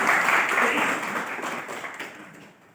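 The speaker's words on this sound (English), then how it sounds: "So let's clap for each and every" An audience of school principals applauds at an in-house training session, a dense wash of clapping that starts full and gradually thins and fades over a few seconds, with no voices over it.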